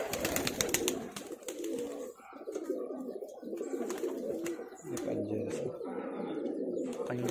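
Pigeons coo in soft, repeated low calls close by, a steady murmuring flock with occasional chirps and faint rustling, keepers' high-flyer birds.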